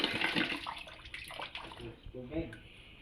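Water runs steadily from a tap, rushing and splashing nearby, while people talk over it.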